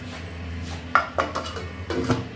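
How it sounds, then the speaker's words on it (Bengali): A metal lid set onto a cooking pot of Kashmiri aloo dum, a few sharp clanks and rattles as it settles, over a steady low kitchen hum. "এবার এটা আমি একটু ঢাকা দিয়ে দেবো।"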